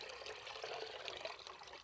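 About a litre of water poured into a whisked gram flour and yogurt batter for kadhi, a soft continuous trickling splash, faint and close, with no voices.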